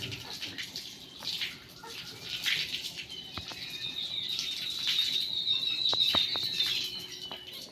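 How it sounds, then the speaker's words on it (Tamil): A child washes hands and face under running water at home in the evening. A moderate, steady splashing and trickling rises slightly over time, with faint bird chirps in the background. "எப்போவுமே கை கால் முகம்லாம் வந்து கழுவுவான் இப்போ வந்து கழுவிட்டுருக்கான்"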